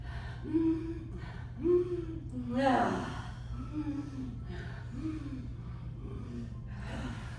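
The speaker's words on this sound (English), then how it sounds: "So let's inhale, inhale, inhale, exhale, inhale, inhale, inhale, exhale." Rhythmic breathing exercise during a yoga fitness class: a run of short, forceful inhales and exhales repeated in a steady pattern, close and fairly loud over a low constant hum.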